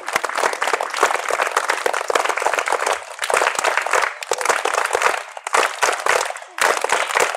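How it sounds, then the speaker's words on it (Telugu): Children at a school Sankranti celebration clap together in a fast, steady rhythm, loud and close, with a few brief pauses between bursts. "ఒకసారి అందరినీ కూడా మనం రిథమిక్ క్లాప్స్ ద్వారా తెలియజేద్దాం"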